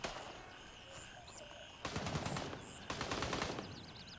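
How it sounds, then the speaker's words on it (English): Gunfire crackles during a session of the video game Gray Zone Warfare: two bursts of rapid machine gun fire come over a quieter background with faint chirping ambience, fairly distant. "I'm running away from that gunfire."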